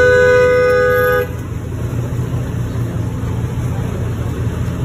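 A toy Mustang car sounds a loud, steady horn tone for about a second, then cuts to a softer continuous engine rumble that runs to the end.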